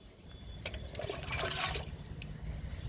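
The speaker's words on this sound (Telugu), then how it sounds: "నిమ్మ మొక్కకి వాటర్ ఇస్తున్నాను" Water is poured onto a potted lemon plant, its soil mixed with kitchen waste. A soft splashing gush rises and falls over a couple of seconds, close and fairly quiet.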